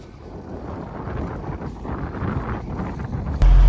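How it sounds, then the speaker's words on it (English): Gusty wind buffets the microphone outdoors beside a big loading shovel and a muck spreader on a farm, a rough low rumble that swells and dips, ending in a hard, heavy thump of noise. "Bit windy again today as well."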